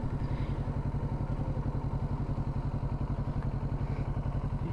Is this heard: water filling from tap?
no